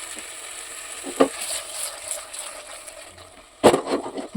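Fish sizzling as they fry in a tomato masala, with a soft continuous hiss and two sharper clatters of stirring, the second louder and closer, no talking.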